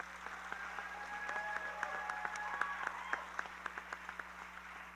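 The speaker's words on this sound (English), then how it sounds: "It needs an applause from all of you." Audience at a Bharatanatyam arangetram clapping, a soft, distant patter of scattered claps over a low steady hum in a hall.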